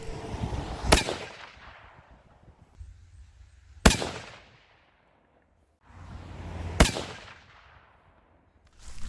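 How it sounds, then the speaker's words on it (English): Three loud, sharp rifle shots firing 160 grain Norma Tipstrike bullets, evenly spaced about three seconds apart, each ringing out with a decaying echo and no talking. "Let's shoot the last group and see what happens."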